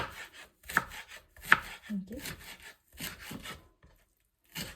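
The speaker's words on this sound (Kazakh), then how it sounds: "Мұздатылған етіміз тез туралды." A knife chopping frozen chicken meat on a board, giving a series of dry, close cuts in uneven bursts with brief pauses and a short silence near the end.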